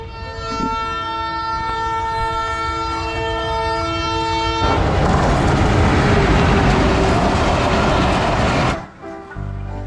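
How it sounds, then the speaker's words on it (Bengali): A train's horn blares steadily, then a loud rumbling roar of rolling cars takes over as the train arrives close by in rural Bangladesh, easing off at the end. "শুনলাম যে ট্রেন আসবে তাই অপেক্ষা করছিলাম এবং ইতোমধ্যে ট্রেন চলে আসছে"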